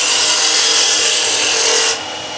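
Steady broadband hiss and rub of a lathe tool's bevel riding along spinning wood during a smooth finishing cut, continuous and close, dropping abruptly in level near the end.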